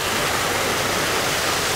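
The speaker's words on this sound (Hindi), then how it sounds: "ये ऊपर से पानी आ रहा है पूरा" Water pours down from above over an artificial waterfall in a public garden, making a loud, dense, unbroken hiss and rush that stays steady throughout with no talk.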